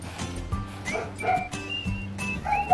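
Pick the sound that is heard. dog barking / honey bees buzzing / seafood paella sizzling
dog barking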